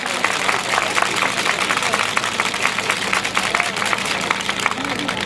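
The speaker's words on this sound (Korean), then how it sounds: "힘차게 박수로 맞이해 주십시오." Dense, steady applause from a large crowd at an outdoor rally as a high-school student is welcomed to speak, continuous clapping throughout with a murmur of voices underneath.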